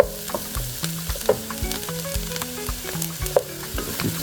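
Bacon, mushrooms and turmeric rice sizzle steadily in a hot pan while a spoon stirs, scraping the pan bottom in repeated strokes, with a few sharper clicks mixed in; close and continuous, no voices.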